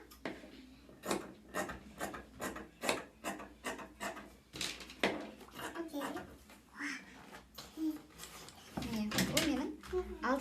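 Scissors cut through fabric for a sewing project making a camisole, a rapid run of rhythmic rasping snips close up, with occasional talk in the background.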